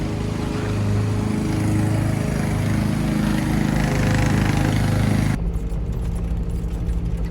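A lawn mower cutting grass runs close and loud as one steady, unbroken engine drone, its tone shifting abruptly near the end.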